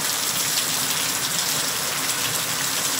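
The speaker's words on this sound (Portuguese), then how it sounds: "Muita chuva em Garaci nesse momento," Heavy rain pours down steadily in Garaci, Paraíba, in the Brazilian sertão, a dense, loud, unbroken hiss of water with no pauses and no talking.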